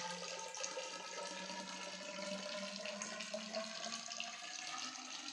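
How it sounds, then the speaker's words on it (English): Steady splashing and trickling of water being poured into a pipe during a physics class demonstration, continuous and fairly faint, with no voices. "we are going to pour some water into this pipe"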